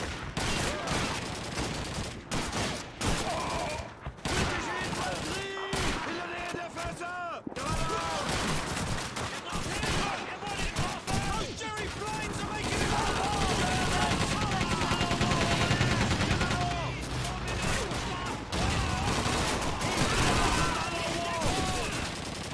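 Sustained automatic gunfire in the Call of Duty MWII beta while running and gunning, loud bursts and rattling shots over a busy battle mix with in-game voices shouting throughout.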